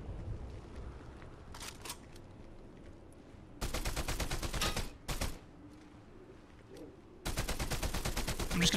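Automatic weapon fire in Fortnite Zero Build, three loud sustained bursts of rapid shots with quieter scattered game sounds in between.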